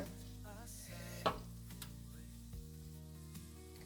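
Onions sizzling in a pan, cooked for an endive and leek fondue, a steady soft frying hiss under faint background music and kitchen clatter, with one brief sharper clink partway through.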